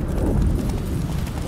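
Hooves of the horse Roach galloping hard through a blizzard in The Witcher 3, a loud, continuous rapid clip-clop drumming with no pause.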